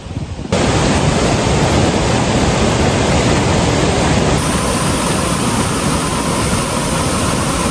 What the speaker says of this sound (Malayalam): ഇങ്ങനെ വെള്ളം ചാടി താഴോട്ട് പോകുന്നൊരു വ്യൂ ആണ്